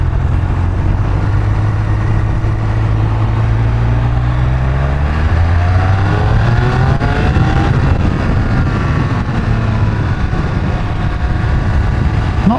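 A sport motorcycle engine revs hard and loud throughout, pitch climbing through several gears with brief dips between shifts, steady and close with no talking.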